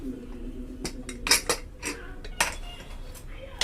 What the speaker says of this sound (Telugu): చూడండి కుక్కర్ చల్లారిపోయింది ఇప్పుడు మూత తీసి